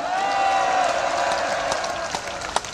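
An audience at a political gathering claps together in celebration, a steady crowd of hands heard over a sustained tonal hum, with a sharp knock near the end.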